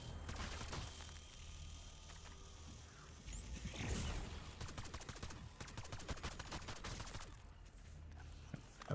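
An M14 rifle fires repeated single shots against a boss in Black Ops 6, a run of quick, fairly faint cracks over busy game noise.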